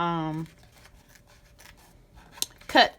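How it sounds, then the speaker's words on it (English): Scissors trim away excess embroidery material on a bag tag: after a short burst of speech, a few quiet snips and rustles lead to a sharper, louder cut near the end. "I'm just going to cut down the excess material first"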